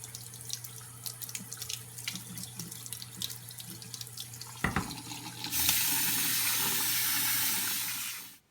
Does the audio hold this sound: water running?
yes